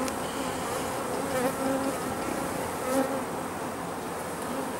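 Honey bees buzz steadily and densely throughout a hive inspection, a close, continuous swarm hum with slight swells and no voices.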